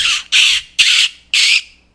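Four loud, harsh seagull squawks in quick succession, each a bright, raspy burst separated by short gaps, with the last one trailing off; no talking underneath.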